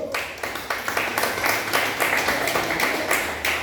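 A church congregation at a missionary base claps together in a dense, steady wash of applause that carries on evenly throughout.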